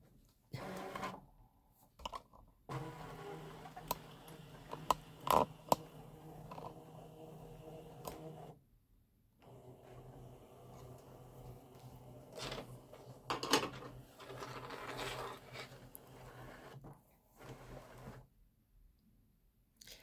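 A cutting machine scans the mat with a mechanical whirring and clattering hum that starts and stops in several bursts, broken by short quiet gaps and a few sharp knocks, close and moderately loud.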